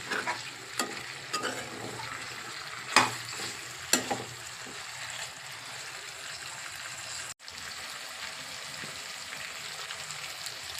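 Country chicken curry with Madras cucumber simmering and sizzling in a pan, with a soft, continuous fry and a few sharp stirring knocks early on.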